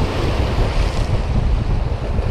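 Ocean waves surging and breaking against giant boulders along a rocky shore, a steady loud wash of surf with heavy wind noise on the microphone and no voices.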